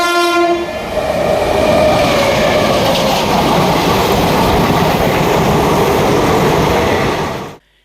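A Coimbatore–Mangalore passenger train sounds a brief horn blast and then runs loud and close with a steady rumbling roar and rail clatter, cutting off abruptly at the end.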